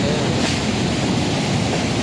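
Seawater surging as the tide suddenly rises in Borongan City: a loud, dense roar of rushing water and wind buffeting close to the microphone, continuous for the whole moment with no voices.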